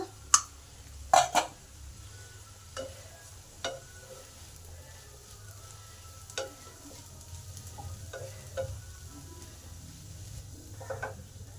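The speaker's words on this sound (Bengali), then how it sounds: "শাকগুলো আমার ভালোভাবে ভাজা হয়ে গেছে" Leafy greens stir-fry in a pan with a low, steady sizzle, punctuated by scattered spatula scrapes and a few sharper clatters against the metal, with no talking.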